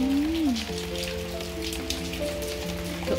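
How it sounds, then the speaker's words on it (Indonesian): Long monsoon rain falling outdoors, a steady close patter of drops on surfaces, with faint tonal hums and a brief rising tone underneath, no talk. "Hujan lama sangat."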